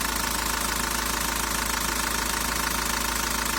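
A 1.9 dCi diesel car engine idles after a sensor cleaning, earlier prone to surging revs and stalling, now a loud, even, rapid knocking clatter held steady without surges.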